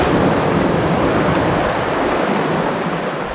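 Steady roar of sea waves where a river flows into the sea, a loud, unbroken wash of surf with wind noise and no voices.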